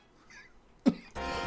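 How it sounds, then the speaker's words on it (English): A single sharp cough from a dry throat, close and brief, followed by a rougher throat-clearing burst. "I hate coughing so much."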